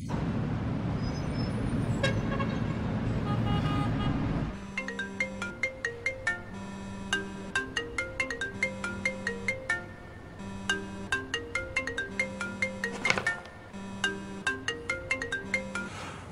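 A melodic phone ringtone repeats a short tune over and over, loud and clear, after a few seconds of low rumbling background noise.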